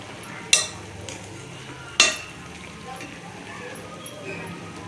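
Vermicelli kesari simmers in a pan as a spoon stirs it, giving two sharp metallic scrapes against the pan over a low bubbling background, close by and without talk.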